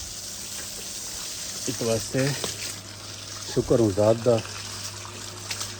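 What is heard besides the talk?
water gushing from a motor-driven pump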